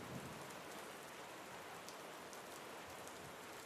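Steady cold, gray rain falling without force, a continuous soft hiss of drops on surfaces with a faint low rumble beneath, even and unbroken throughout.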